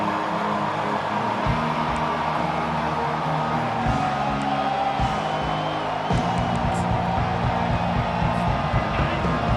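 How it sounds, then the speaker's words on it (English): A stadium crowd at a college football game between Pack and OKST roars steadily and loudly in a sustained, full-throated wall of cheering with whoops, heavy low rumble throughout. "This crowd, full throat, splitting the eardrums and letting them know it's going to be a long day."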